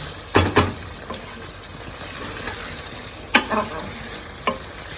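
Pakistani bhuna lamb curry masala being fried and stirred in a pot: a low, steady sizzle with a few distinct spoon scrapes and knocks against the pot, heard up close.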